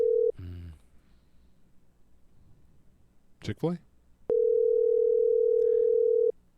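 A phone call to a Chick-fil-A restaurant: a steady, loud dial tone holds for about two seconds near the end, after a short earlier tone burst, with a brief spoken word in between.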